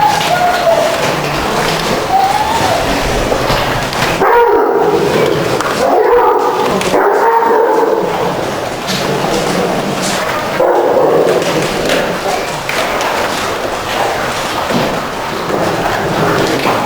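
A pack of foxhounds at a fox hunt barks and yips continuously while feeding on meat, loud and overlapping, with whines mixed in and a constant noisy background.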